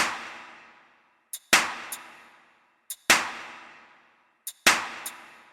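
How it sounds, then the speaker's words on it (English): A drum beat from a Mandela Catalogue mod of Incredibox repeats three times in a steady loop. Each cycle has a sharp, ringing clap-like hit with a long fading tail and small metallic hi-hat ticks in between. No one speaks. "Another solid beat. I don't know who that was. It just looks like a normal dude, honestly. Got like a mixture of like hi-hats and claps."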